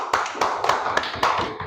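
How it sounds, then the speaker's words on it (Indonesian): Children applaud together in a classroom or school gathering, a steady patter of many small hands clapping with a few louder accents, moderately close and without talk. "Tepuk tangan."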